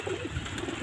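Pigeons coo softly on a rooftop, a low burbling murmur over a short moment with no talk.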